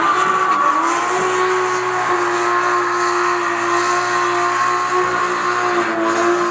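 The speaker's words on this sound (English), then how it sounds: "I will throw some sort of burnout video in right here." A car burnout roars with a continuous high tire squeal and steady engine drone, loud and sustained throughout with no voices.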